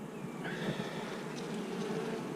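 Bees buzz around an opened hive, a steady close hum of many wings with higher whines drifting in and out, continuous and fairly faint.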